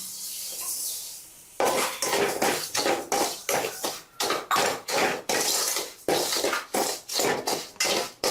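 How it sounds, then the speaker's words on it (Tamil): Semolina roasts in ghee in a pan as a spoon scrapes and knocks against the metal in a quick, repeated rhythm of loud, close strokes, following a short quiet stretch at the start. "மிச்சம் இருக்கிறதுல நெய்யில் இந்த ரவையை ரோஸ்ட் பண்ணி எடுத்துடலாம்."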